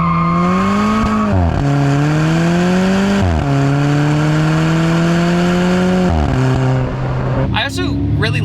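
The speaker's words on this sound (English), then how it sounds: "this thing has factory exhaust, and they made the factory exhaust this loud on this thing" Alfa Romeo 4C with a loud factory exhaust, its engine droning and climbing through several gear pulls with dips at each shift, close and strong, with tire noise and a brief squeal near the end.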